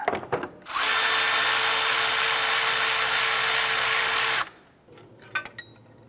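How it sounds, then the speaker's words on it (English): A power tool whirs continuously at high pitch for about four seconds, close and loud, removing a bolt during alternator replacement on a 2009-2015 Honda Pilot, then stops, followed by a few faint metallic clinks. "We're going to go ahead and zip that bolt right out."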